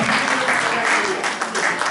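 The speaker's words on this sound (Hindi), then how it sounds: "इनके लिए जोरदार तालियां" Theatre audience applauding a visiting drama team from Jodhpur after a Hindi play, dense sustained clapping from a full hall, loud and continuous throughout.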